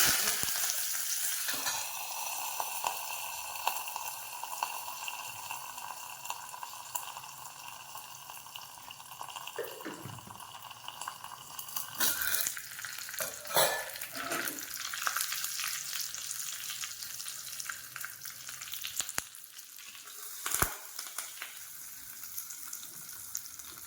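Cumin seeds and curry leaves frying in hot oil in a pan while making a chutney for appe, giving a steady close sizzle and crackle with a few sharper pops and stirring clinks throughout.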